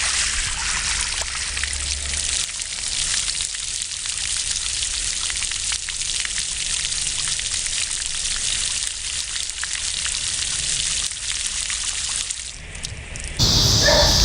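Water trickles and splashes steadily onto annual garden plants in summer heat, a loud, close, unbroken hiss of running water that shifts to a brighter spray just before the end.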